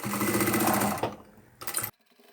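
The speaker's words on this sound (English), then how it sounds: "sew all the way to the end" A sewing machine runs a steady close-up stitching burst down to the end of a seam on a small fabric chapstick holder, pauses briefly, then gives a short final run before stopping.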